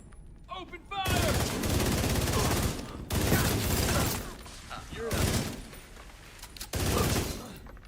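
Sustained bursts of automatic gunfire in The Division 2 come in several loud waves separated by short pauses, close and intense, with voices heard in places.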